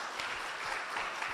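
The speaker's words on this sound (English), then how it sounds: "Could you give them a round of applause?" Audience applause at a labour ministry panel event, a brief, steady patter of clapping from a modest crowd in a hall, soft and even throughout.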